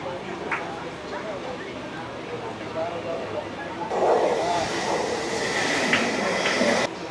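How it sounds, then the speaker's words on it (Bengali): A Mumbai local train rumbles and clatters nearby, its noise swelling midway with hissing and squealing as it slows into Mumbai Central station, while voices talk over the din. "আমাদের ট্রেন এসে দাঁড়ালো মুম্বাই সেন্ট্রাল রেলওয়ে স্টেশন"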